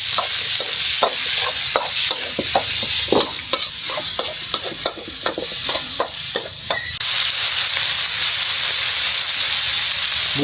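Pork belly stir-fries in a hot pan with a loud, steady sizzle and rapid rhythmic scraping and tossing strokes for about seven seconds, then settles into an even, continuous frying hiss.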